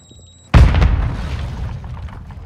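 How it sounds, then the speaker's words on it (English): A Semtex grenade detonates in Call of Duty Modern Warfare 2 multiplayer, one loud, close boom that hits suddenly after near silence and then rumbles and fades over two seconds. "Throwing Semtex."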